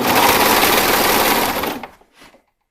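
Sewing machine stitching elastic onto a V neckline of a gown, running in a steady fast continuous whir close by, then slowing and stopping with a brief final burst of stitches.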